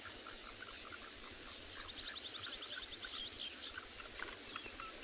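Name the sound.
tree frogs calling at sunset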